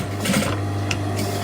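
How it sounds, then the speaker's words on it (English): Sewing machine running a 1/4 inch seam and back tacking over an edge, a loud steady motor hum with rapid needle chatter, close up and continuous with no talking. "I'm back tacking twice over that edge just to make sure that I catch it all in nicely."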